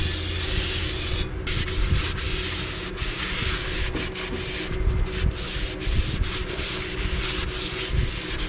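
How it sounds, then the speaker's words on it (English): Steady scrubbing and rubbing on the outer face of a brake rotor from a 1992-96 Toyota Camry Wagon rear brake job, a continuous close abrasive sound with brief louder strokes and no talking. "I'm going to clean the outside of it too."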